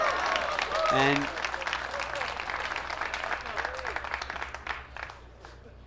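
Applause from the crowd at a Predator WPA Men's World 10-Ball Championship pool final, loud and sustained and slowly thinning, with a commentator's voice over it.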